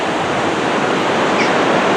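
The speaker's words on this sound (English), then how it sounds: "lovely sounding pounding waves of the North Sea" Pounding North Sea waves at Scarborough on a foggy day make a dense, unbroken roar of surf, loud and close, with no voices over it.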